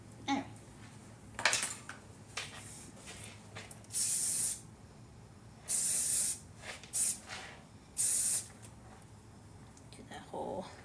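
Hairspray from an aerosol can sprays in several short hissing bursts of about half a second to a second, loud and close, separated by quiet pauses with faint handling noise.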